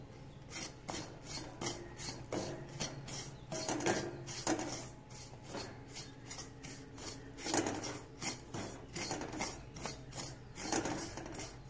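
Coconut masala with small shallots is dry-roasted in an iron pan for Kerala-style prawn theeyal. A spatula scrapes and stirs in a steady rhythm of rasping strokes, close and alone with no talking.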